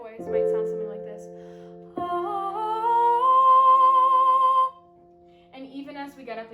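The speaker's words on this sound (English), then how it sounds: "and my head voice might sound something like this." A classically trained woman sings in head voice, a piano note sounding first, then a clear sustained high note that glides upward and holds, followed by a softer vocal phrase at the end.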